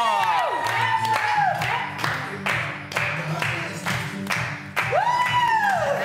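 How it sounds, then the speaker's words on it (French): A studio audience on a reality TV show claps and cheers with whoops and shouts, lively and close, while excited voices and speech cut in repeatedly throughout. "Et sous vos applaudissements,"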